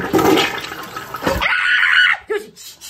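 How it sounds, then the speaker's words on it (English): A toilet flushes in a Minecraft puppet show, a loud rushing gush of water that swirls and drains away, then cuts off with a few gurgles at the end. "If I flush this toilet right here..."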